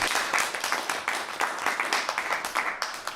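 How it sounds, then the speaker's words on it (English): Applause from a live audience, a dense steady wash of many hands clapping that swells and fades slightly across a few seconds, fairly loud and close with no voices over it. "one more round of applause"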